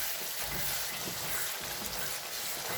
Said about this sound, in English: you have to keep stirring, so otherwise it becomes sticky